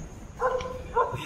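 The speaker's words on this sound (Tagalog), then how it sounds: "Ayan, may aso pa may kumakahul." A dog barks twice somewhere near an abandoned chapel, two short moderately loud barks about half a second apart over faint background hiss.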